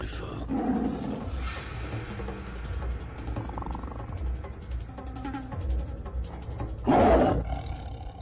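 A tiger roars in a French action film, a deep rumbling roar that swells into a loud close burst near the end over a low, noisy background.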